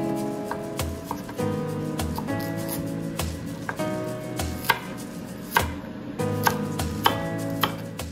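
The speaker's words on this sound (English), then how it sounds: "Peel the carrots and cut them into 1-inch bite-sized pieces." A knife cuts peeled carrots into 1-inch bite-sized pieces on a board, giving sharp, regular chopping knocks in steady rhythm, close and clear over soft music.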